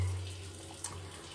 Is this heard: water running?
yes